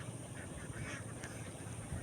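Ducks quack faintly in an outdoor setting with a steady background hum and low rumble, a few brief calls over two seconds.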